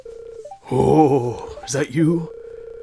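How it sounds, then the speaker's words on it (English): A telephone rings in the Stardew Valley farming game, a steady electronic tone before and after, with a voice speaking over it in the middle. "our phone is ringing, something we bought recently"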